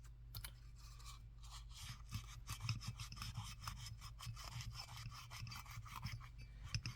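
A twisted bread tie scrapes gunk out of a Harley master cylinder in fast, repeated close-up rubbing and rasping strokes over a low steady hum, with no talking.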